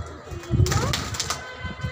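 Pigeons in a loft give a short coo amid wing flutters and rustling, heard close with a brief burst of activity in the middle and a faint voice in the background.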